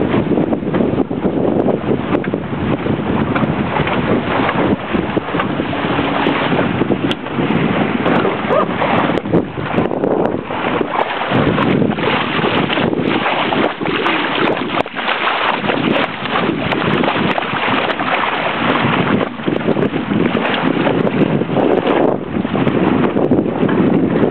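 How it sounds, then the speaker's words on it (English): A steady, fairly gusty west wind roars against a sailboat out on a lake, with heavy wind buffeting on the microphone and the wash of water around the hull, loud and continuous. "We've got a nice west wind"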